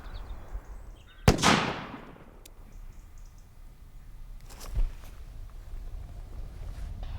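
A blank round is fired from a gun into a glass bottle, making a single sharp, loud bang with a short decaying ring, followed by quiet and a softer thump later.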